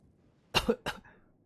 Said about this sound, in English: Weak coughing noises.